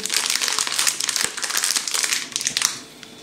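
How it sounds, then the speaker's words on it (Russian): Dry kharcho soup powder rustles and crackles as it pours steadily from a crinkly instant-soup packet into a pot, a close, continuous gritty hiss lasting a few seconds before tapering off. "Высыпаем кастрюльку содержимое пакетика."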